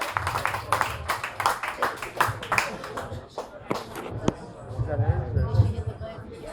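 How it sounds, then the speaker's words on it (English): An open-mic comedy audience in Philadelphia claps its hands together in a run of sharp, uneven bursts, then the clapping thins out as a voice starts talking over the room. "Can we start clapping right now?"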